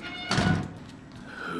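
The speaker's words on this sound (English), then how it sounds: "I'm just gonna close this door." A door closing in the horror game Outlast, one close dull thunk that fades into quiet room tone.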